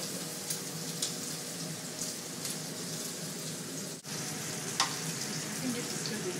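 Strips of bacon frying in a pan, a steady close crackling sizzle with scattered pops that carries on throughout, alone without any talking.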